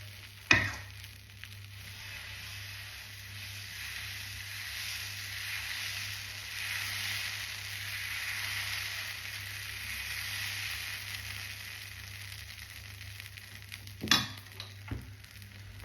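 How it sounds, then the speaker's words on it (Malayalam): Dosa batter spread across a hot pan on a stove gives a steady, close hiss and sizzle that swells midway, with a sharp clatter of utensil contact at the start and another near the end. "നമ്മുടെ ദോശമാവൊക്കെ ഒഴിച്ചു കൊടുത്തിട്ട് പരത്താൻ പോവാണ് കേട്ടോ"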